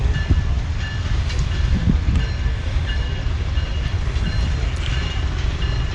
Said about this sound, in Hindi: तो अभी सामने से मेन लाइन 1 के ऊपर से यूसुफ वाला कोल पास हो रही है और इसको लोकोमोटिव जो हॉल कर रहा है वो 9023 है।